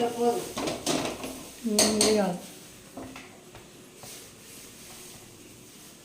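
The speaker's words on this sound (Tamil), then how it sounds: "அப்புறம் முட்டை குழம்பு பொடி எல்லாம் போட்டு நல்லா மிக்ஸ் பண்ணி விட்டுட்டு" Egg gravy being mixed with masala powder in a metal pan, loud clanking spoon-on-pot scrapes in the first half, then quieter stirring and faint rustle, heard up close.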